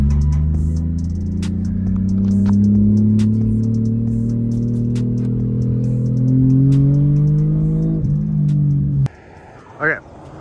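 A car on a short test drive, engine droning with a steadily rising pitch as it accelerates close by, then cutting off abruptly, followed by a brief sound and voices near the end.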